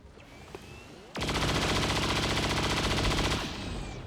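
A Grenadier's weapon fires in XCOM 2, a dense rapid burst lasting about two seconds that rises abruptly out of low ambient game sound and then falls back to it.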